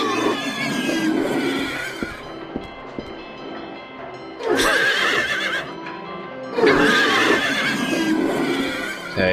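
Carousel horses in an amusement park in Silent Hill 3 let out loud, whinnying neighs in two long bursts over a steady mechanical, train-like rumble and clatter.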